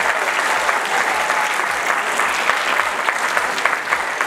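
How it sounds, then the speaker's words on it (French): An audience applauds steadily and loudly, a dense wash of clapping throughout with no talking. "Je voudrais vous demander d'applaudir très fortement tous ces lauréats qui sont là"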